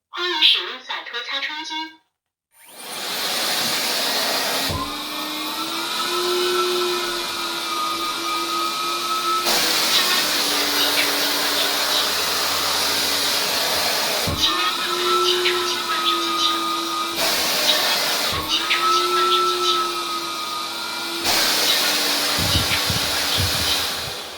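A SATUO Pro robot window cleaner's suction motor whirs as a steady, close droning hum with a whiny tone. It starts after a short pause and keeps running, with a few brief dips and shifts in pitch.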